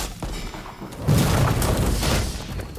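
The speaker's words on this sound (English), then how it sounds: "Barely avoided that explosion." A cannon blast in the video game Rise of Ronin booms loudly midway and leaves a rumbling, noisy tail, with earlier game sounds and thumps beneath it.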